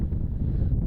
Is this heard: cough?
no